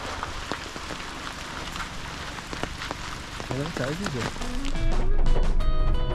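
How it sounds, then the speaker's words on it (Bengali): Steady rain falls outdoors in the forest at Chilapata in the Dooars, a dense continuous patter that grows slightly heavier toward the end, with voices briefly heard in the middle. "আমাদের বৃষ্টি আর ছাড়ছে না পিছনে"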